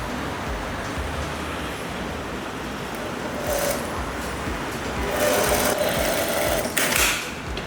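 A sewing machine runs steadily, stitching a half-inch hem folded twice on a blouse sleeve, a continuous mechanical whir with slightly louder stretches toward the end.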